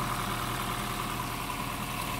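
A 2014 Honda Vezel engine idles with a slight misfire, a steady, dense mechanical hum that runs unchanged throughout with no voices.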